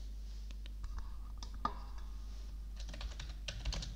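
Keys clatter on a computer keyboard as a shop address is entered into an Excel invoice, quick irregular clicks in short bursts with a steady low hum underneath, close and fairly quiet.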